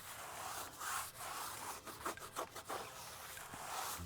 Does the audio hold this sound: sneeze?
no